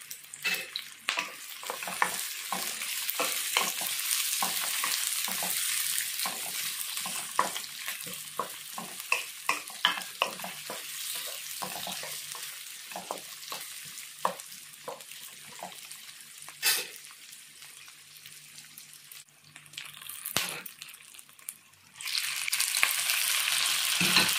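Finely chopped garlic fries in oil for pakbet, a close sizzle broken by frequent clattering stirs and scrapes of a utensil against the pan, with a louder burst of hissing near the end; no talk.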